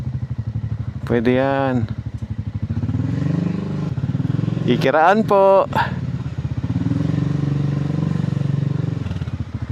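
A motorcycle rides along a narrow village road in Marinduque, too tight for cars. Its engine drones steadily throughout with a few throttle swells, while a rider talks over it.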